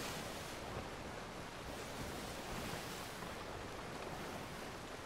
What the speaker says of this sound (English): Fucking hate the sloop having that passive gurgle sound.